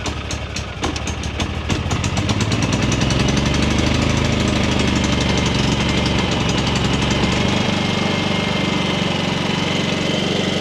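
A Champion 7000-watt inverter generator with an oil tube fires up on choke in eco mode, rattling roughly at first and then settling into a steady, loud, close engine drone that carries on without talk.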